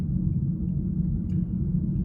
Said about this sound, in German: ihr euch übrigens wundert über die Reifengeräusche, ich fahre natürlich mit Winterreifen